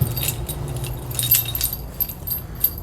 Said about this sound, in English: For the keys, you have main doors, baggage doors, and then extras like outside shower